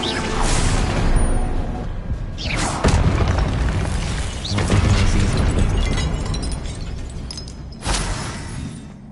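The Incendio fire spell from Hogwarts Legacy bursts out in loud, booming whooshes, several fiery blasts spread over a few seconds with a rumbling crackle between them and no talking.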